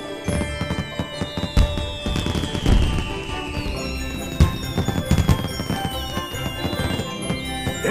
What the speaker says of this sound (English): Look, they launched some fireworks just for you.